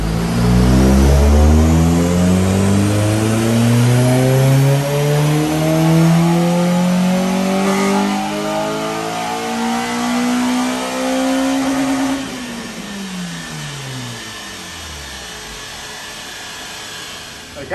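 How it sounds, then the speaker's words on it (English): A custom-tuned Honda Civic EP3 Type R makes a dyno power run, its engine revving loudly and climbing steadily in pitch for about twelve seconds before the revs fall away. "first up is a standard power run, so let's see what she makes"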